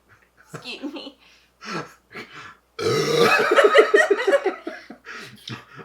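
A loud, drawn-out burp tangled with a burst of laughter, with short bits of talk before and after.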